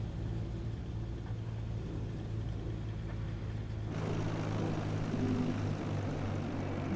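A light aircraft in Microsoft Flight Simulator speeds across a runway, its engine a steady, continuous drone that swells louder and brighter partway through, with no talk over it.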